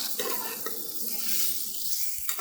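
Hot water poured into frying spice paste of cumin and coriander in a pan sets off a close, rushing pour mixed with sizzling and bubbling that runs steadily.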